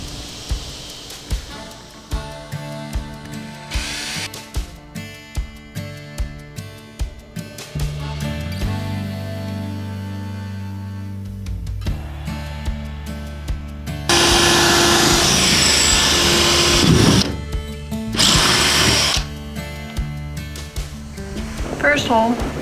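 A power drill bores corner holes through a van wall ahead of jigsaw cutting during a window install, bursts of whining motor and grinding alternating with pauses, loud and close, with people talking between runs.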